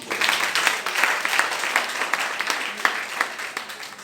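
Congregation applauding in a church, a steady wash of many hands clapping with irregular louder claps standing out, continuous and moderately close throughout.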